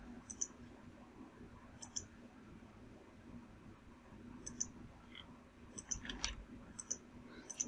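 Computer mouse clicks, quiet and close, arriving singly and in quick pairs with gaps between, over a faint hum of room noise.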